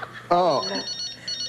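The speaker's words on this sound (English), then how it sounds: "Dude, you got a phone ringing." A telephone rings with a faint, repeating high electronic trill that keeps pulsing after a man's brief exclamation and continues quietly to the end.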